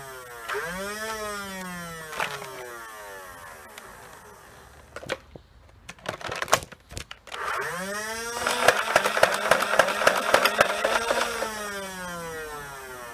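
A modded Nerf Rapidstrike blaster spins up its flywheels with a rising whine, then fires a rapid burst of darts with a quick mechanical clatter, repeating in two bursts with a short pause and jam between.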